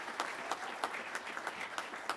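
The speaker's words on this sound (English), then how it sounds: "Let's give them a round of applause." Light, thin applause at an Air Force undergraduate pilot training graduation ceremony, with a few scattered claps in a steady patter that sounds fairly distant.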